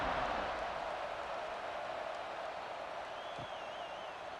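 A college football stadium crowd at Virginia Cavaliers versus NC State Wolfpack gives a steady, distant roar before kickoff, even and unbroken throughout.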